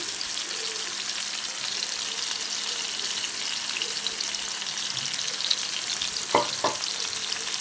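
Chicken tikka fries in a pan over a medium flame with a constant, even sizzle, and two short utensil clinks land near the end.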